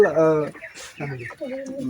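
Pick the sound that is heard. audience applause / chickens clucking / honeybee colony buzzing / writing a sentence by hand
chickens clucking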